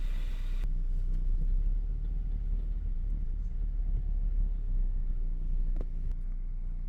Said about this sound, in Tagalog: Yan yung refrigerated truck